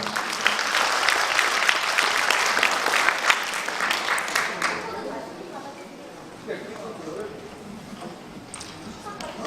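Audience applause at a Korean customer-friendliness award ceremony, a dense burst of clapping for about five seconds that fades into scattered claps and room murmur.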